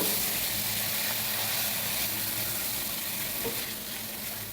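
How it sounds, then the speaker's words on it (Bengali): Salted spice masala for chicken is stirred and fried in a pan over medium heat, producing a constant close sizzle with soft scraping stirs layered on top and no voices. "মশলাটা নেড়ে চেড়ে দু তিন মিনিট কষিয়ে নেব"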